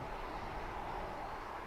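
An aircraft flying in at DFW airport, likely an American 737-800 on approach, heard as a faint, steady distant jet roar with no other sounds.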